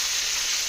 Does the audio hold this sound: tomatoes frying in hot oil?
yes